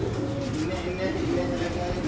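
A Teddy pigeon in a breeding setup in Nashik, cooing softly among other birds against a dense, noisy background of rustling and ambient clatter.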